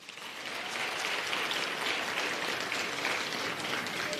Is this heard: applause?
yes